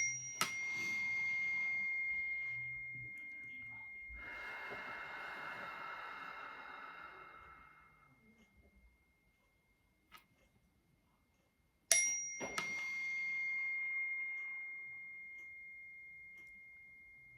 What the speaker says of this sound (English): I'm going to clear the energy now, doing my 3 chimes as always